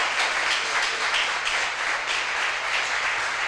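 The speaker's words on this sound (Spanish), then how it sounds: "Fuerte ese aplauso al Señor." A church congregation claps together in a loud, sustained burst of applause, dense and continuous with a faint rhythmic pulse, filling the room without any voices on top.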